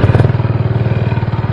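A stand-up scooter powered by a 7.5 HP industrial engine idles steadily, its rapid, even thumping pulse close and loud throughout.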